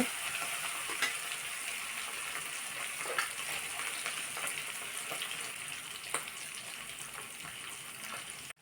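Marinated Valla fish fries in hot oil with a continuous, even crackling sizzle heard close up, dotted with occasional louder pops and ending in a soft clatter.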